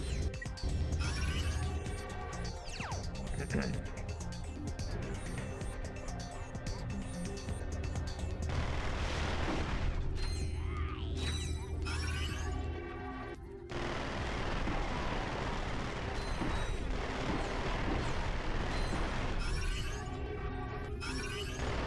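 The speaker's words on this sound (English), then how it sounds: "Get my Mega Rocket Cannon out." Mega Rocket Cannon blasts and gunfire in the game Ratchet and Clank: Going Commando, a dense, continuous barrage of explosions and shots with music and effects layered throughout, dipping briefly near the middle before resuming at full loudness.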